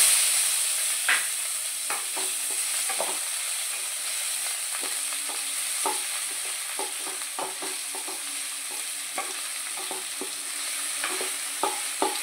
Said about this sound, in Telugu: అందులో నెక്స్ట్ ఆనియన్స్ వేసేయాలి